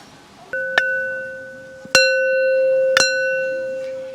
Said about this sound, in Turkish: Zili çaldık.